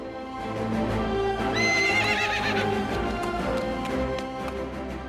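A horse whinnies loudly and at length, its neigh rising and falling, while hooves clop steadily underneath.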